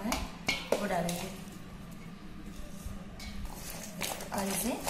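A spoon scrapes and clinks in a pot while raw mango pickle paste is stirred together with castor oil, with irregular knocks and soft squishing under steady talking.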